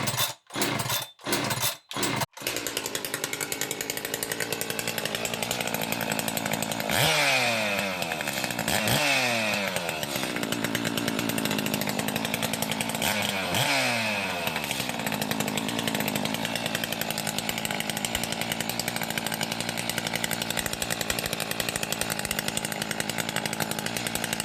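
Echo 590-620 chainsaw fitted with a bolt-on muffler mod and advanced timing, preceded by a few sharp pull-start cord yanks, then running loud and steady at full throttle with several quick blips and dips in engine speed.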